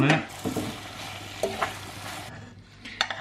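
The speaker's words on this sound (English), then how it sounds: "you can hear it frying now" Food sizzles and fries in a pan with a steady crackle, broken by a few sharp stirring scrapes and clinks close by.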